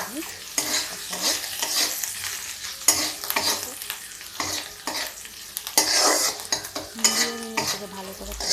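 Lote fish with turmeric and salt sizzles in a pan while a utensil stirs and scrapes it, with repeated bursts of scraping over a steady frying hiss, close up and with no voices.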